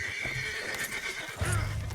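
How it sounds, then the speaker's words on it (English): Horse in Red Dead Redemption 2 gives a loud, close whinny, with hoof clip-clop and a game soundtrack drone underneath. "I just want to jump onto the horse, Arthur."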